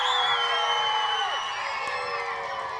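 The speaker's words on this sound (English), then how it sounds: "Can I get a round of applause?" A school audience at a game show cheering loudly, a dense sustained roar of shouting and whooping voices that stays strong throughout and eases slightly toward the end.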